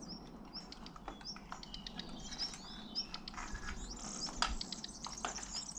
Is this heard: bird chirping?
yes